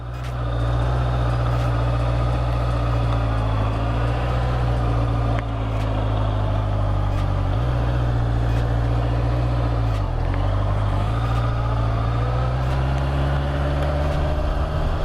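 A Honda CBR650R motorcycle rides through Mukdahan town at night, its engine a loud, constant drone with a couple of brief dips in pitch as the throttle eases.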